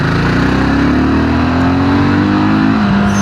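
A BSA Scrambler 650 motorcycle with a big single-cylinder engine drones loudly and continuously while being ridden, its pitch rising slowly as it speeds up.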